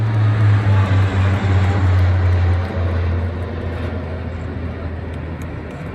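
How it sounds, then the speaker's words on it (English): Three large C-130J Hercules turboprop transports fly past at a royal birthday parade, a loud, deep propeller drone with a strong low hum that gradually fades as they pass. "Then 3 huge C-130J Hercules, aren't they massive?"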